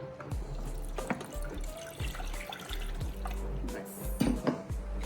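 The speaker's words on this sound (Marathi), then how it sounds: "आणि पाणी टाकते खाली." Water is poured into an egg boiler fitted with an egg rack, a close trickling and splashing stream with small drips and clinks of the container throughout.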